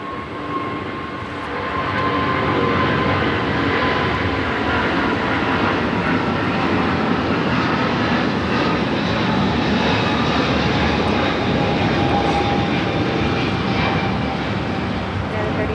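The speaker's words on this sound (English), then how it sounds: "This is United Airlines 3807 777-200 taking off to Las Vegas" A United Airlines Boeing 777-200 jet takes off at Los Angeles airport, bound for Las Vegas, with a loud, steady engine roar that swells after the first two seconds and holds strong throughout, while a voice talks over it.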